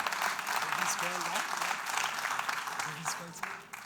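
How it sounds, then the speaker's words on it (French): An audience at an entrepreneurship fair applauds a start-up founder during a live crowdfunding session, with steady moderate clapping throughout and speech mixed in. "Mesdames, Messieurs, applaudissements pour Stéphane."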